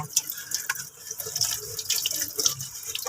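A tap runs while tube-feeding equipment is rinsed inside and out, with splashing, dripping and uneven bursts of water hitting the items and the sink at close range.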